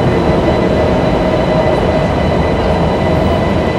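An ICE high-speed train pulling out of Braunschweig main station at night, a steady loud rumble of rolling stock and wheels on rails filling the whole stretch without pause.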